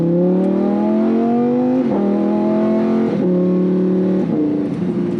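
Lamborghini Huracan 610-4 V10 engine running in Corsa mode with exhaust valves open, revving loudly and close up through several manually shifted upshifts, each marked by a brief dip in pitch before climbing again.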